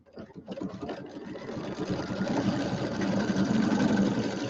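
Embroidery sewing machine stitching placement lines in pink thread, a steady rapid mechanical whir with fast needle chatter that starts up and runs continuously at an even, close level.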